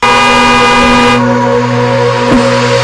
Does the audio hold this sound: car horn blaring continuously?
yes